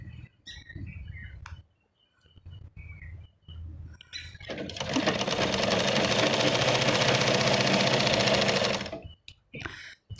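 A sewing machine stitching a churidar kameez runs in one steady, rapid mechanical whir for about four seconds, preceded and followed by short handling knocks and pauses.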